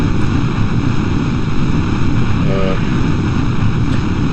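A turbo ramjet engine in the Kerbal Space Program video game roars as a loud, steady, broadband drone that holds without a break throughout.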